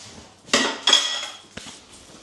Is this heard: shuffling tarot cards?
no